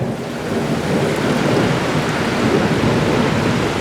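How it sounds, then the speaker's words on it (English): Thunder rolling outside a house at night during a storm, a steady loud rumble mixed with heavy rain that fills the whole span without a break. "I saw a flash at the window, and it's like, whoa, I hope that was lightning outside my house"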